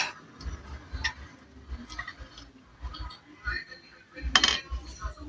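A Honda NS150 motorcycle engine block is set into place during an overhaul on a workbench, giving scattered light metallic clinks and taps with a sharper clank near the end.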